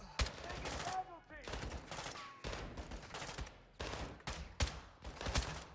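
Rapid bursts of automatic gunfire in a Call of Duty: Modern Warfare 2 campaign firefight, loud repeated volleys separated by brief gaps, with shouted voices in between.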